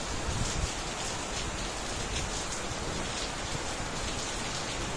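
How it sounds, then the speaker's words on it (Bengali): Heavy rain pours down in a dense, unbroken roar, close and loud throughout with no talking. "দেখো বৃষ্টি মুষলধারে হচ্ছে"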